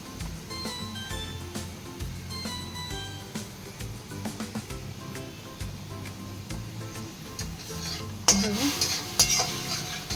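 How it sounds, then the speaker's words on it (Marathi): Grated tomato and ginger being sautéed and stirred in a pan, with steady soft sizzling and scraping of a utensil against the pan throughout, and a louder clatter near the end, no talking. "छानपैकी याला आपण परतून घेऊया, कारण याचा कच्चेपणा निघून जाऊ म्हणून"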